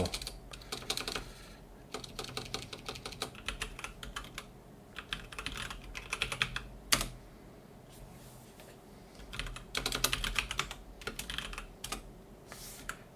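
Steady, fast typing on a computer keyboard, close and continuous with a few sharper key strikes, no voices.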